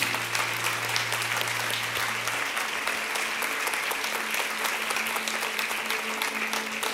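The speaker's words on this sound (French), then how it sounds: "Est-ce qu'on peut applaudir aussi bien fort toute l'équipe?" An audience in a church claps steadily, dense sustained applause filling the whole stretch at moderate distance, with a faint tonal hum underneath.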